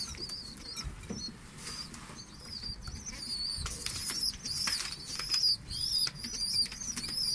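Pigeons' wings flap in repeated fluttering bursts close by, with faint high chirps scattered through.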